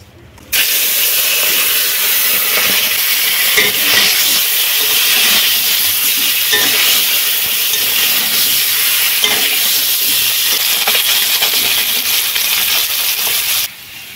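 River fish, coated in turmeric, frying in hot oil in a karahi wok, giving a loud, steady broadband sizzle and hiss that starts abruptly and runs almost unbroken, with faint stirring underneath, before cutting off near the end.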